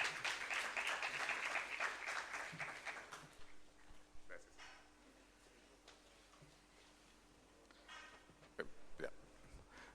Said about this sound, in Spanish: Fuertes palmas, por favor, para el ponente